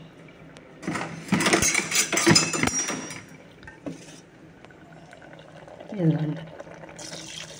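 Tamarind juice is strained and poured in a kitchen, with clinks of utensils against a vessel and a short liquid pour, under a woman's speech.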